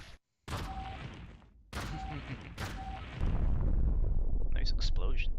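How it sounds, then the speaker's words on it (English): Explosions in the video game Owlboy: a run of sharp, loud game blasts with rumbling tails, cut by brief gaps, then a sustained roaring burst with high chirping effects near the end. "Nice explosions."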